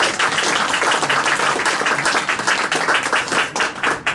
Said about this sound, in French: C'est Alain Le Gohanvic, qu'on peut déjà applaudir.